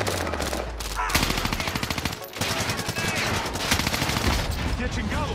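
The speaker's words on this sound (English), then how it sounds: "Under heavy fire here." Heavy, sustained automatic gunfire in Call of Duty Warzone on the Caldera map, rapid loud bursts layered together almost without a break.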